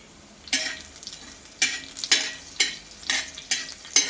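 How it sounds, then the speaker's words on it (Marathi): Coriander seeds and poppy seeds roast in a little oil on a tava, stirred in sharp scraping strokes that repeat roughly every half second over a faint sizzle, close up with no talking. "सगळ्यात पहिले आपण धने आणि खसखस भाजून घेणार आहोत"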